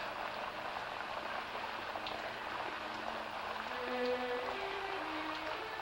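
Steady rain patters continuously, a dense hiss of droplets with faint tonal hum underneath, no voices.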